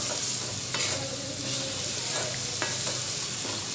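Spices stirred into potatoes cooking with cumin in a pan, a constant sizzle with scraping strokes of a spoon against the pan, close by and with no voices.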